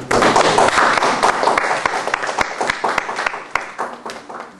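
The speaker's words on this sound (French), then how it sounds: "Bon, et bien nous applaudissons pour les..." An audience at a seminar applauds, close loud clapping with distinct sharp individual claps standing out from the dense wash, gradually thinning toward the end.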